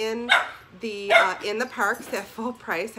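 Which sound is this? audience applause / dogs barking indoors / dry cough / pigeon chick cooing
dogs barking indoors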